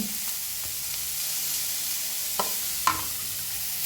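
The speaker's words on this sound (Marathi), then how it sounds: "सगळं मिळून भाजून घेऊया।" Red chillies, tamarind, ginger and garlic roast together in a pan with a soft, continuous sizzle and occasional light taps of a spoon, fairly close.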